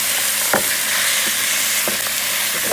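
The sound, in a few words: browning ground beef, breaking it up with wooden spoon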